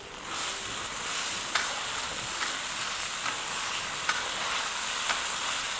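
Steady, close sizzle of stir-frying in a pan while fish sauce and lime juice are added, with occasional sharp ticks of a utensil against the pan and no talking.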